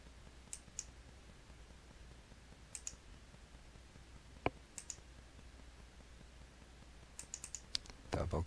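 Computer mouse clicks while curves are being drawn on screen: sparse, sharp single and double clicks scattered over a quiet room hiss, with one louder click midway and a quick cluster near the end.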